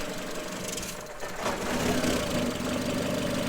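A Citroen C5 with about 300,000 km runs at a steady idle, a continuous mid-pitched engine drone with faint ticking that swells slightly partway through, close and without talk.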